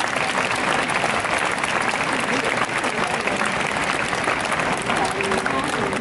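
Steady, dense applause from a cinema audience at a film introduction in Italy, a continuous wash of many clapping hands held at an even level throughout, with some voices under it.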